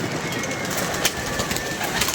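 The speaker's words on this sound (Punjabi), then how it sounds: "ਇੱਕ ਤੇ ਸਲਾਰਾ ਕਬੂਤਰ ਆ ਗਿਆ ਸਾਹਮਣੇ" A pigeon coos over steady broadband outdoor background noise, with brief faint calls spread across the moment and no talking.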